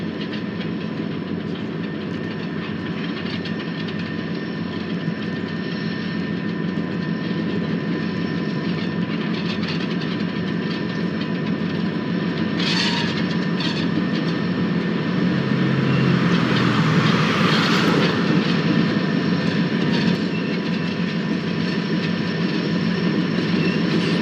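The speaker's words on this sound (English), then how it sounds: "Coming in off of the Peoria sub is Rail America's Toledo, Peoria, and Western" Toledo, Peoria and Western freight train rolling past at Galesburg, a loud continuous rumble with rhythmic wheel clatter and rail squeal, steady throughout with no talk.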